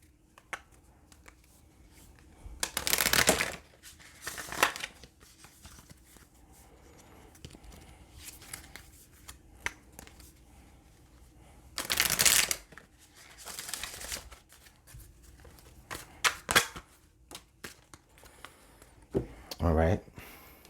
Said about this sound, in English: let's pull some cards from the Madame Endura's fortune cards